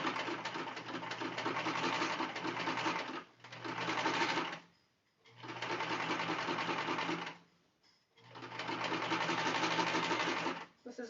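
A sewing machine stitches bias binding onto a fabric car trash bag, running in long steady whirring bursts with short pauses between, close and prominent.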